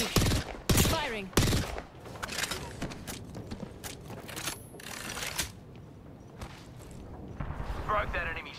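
A Peacekeeper shotgun fires in the video game Apex Legends, with several loud sharp blasts bunched near the start and more shots and clatter following, while a player talks over the action.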